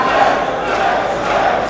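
A capacity crowd at a wrestling arena roars and cheers continuously, a dense wash of voices filling the hall.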